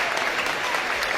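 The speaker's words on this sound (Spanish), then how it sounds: "Y este aplauso es para usted, doctor." A studio audience gives a dense, steady burst of applause to welcome an orthopedic doctor, many hands clapping together at close range without a break.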